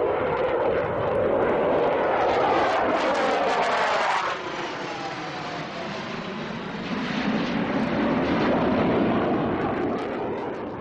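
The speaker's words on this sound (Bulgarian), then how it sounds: "Пилотите в небето ще разиграят въздушен бой." Czech fighter jets roar overhead during air combat training, a loud, rumbling jet noise that sweeps past twice as the aircraft pass, rising and falling in pitch.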